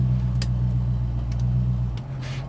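A 1968 Mercury Cougar XR7 idles and pulls away at low revs. The engine gives a steady, close, rumbling drone, with a few faint clicks and a slight drop in tone near the end.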